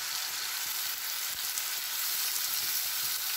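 Buckwheat sizzles in a hot frying pan in a home kitchen, a continuous close crackling hiss with faint stirring clicks and no talk.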